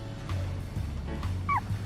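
A real puppy yips and whimpers softly several times while being groomed at a children's birthday party, with steady low background noise throughout.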